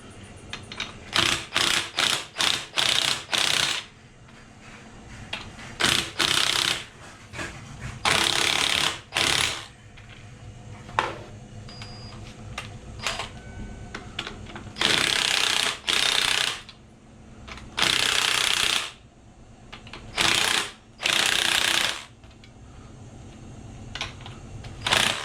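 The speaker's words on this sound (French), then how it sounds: "Et là, théoriquement, je peux dévisser mon boulon" A ratchet wrench unscrewing the middle bolt on a Renault Megane 2 steering rack, heard as repeated bursts of rapid, close, loud ratcheting clicks separated by short pauses.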